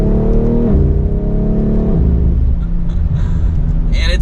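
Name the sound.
2024 BMW X3 M Competition engine accelerating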